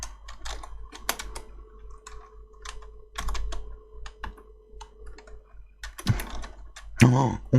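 Typing on a computer keyboard, irregular bursts of close, crisp key clicks and clacks separated by short pauses, with a louder flurry of keystrokes toward the end.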